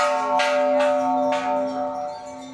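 A bell at the Golden Mount in Bangkok rings out clearly, struck about three times in slow succession, each strike leaving a sustained ringing tone that lingers and slowly fades.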